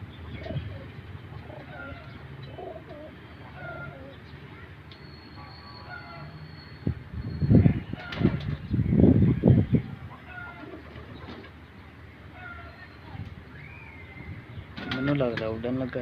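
Pigeons coo softly in repeated low throaty bursts, with a few louder coos up close and faint background noise and a voice at times.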